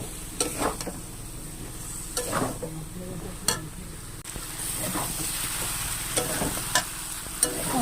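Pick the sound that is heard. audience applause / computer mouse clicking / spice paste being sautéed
spice paste being sautéed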